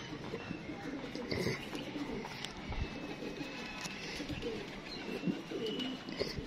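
Pigeons from a fancy breeder's coop coo softly and steadily at close range amid faint chirps and background movement, with low voices murmuring now and then.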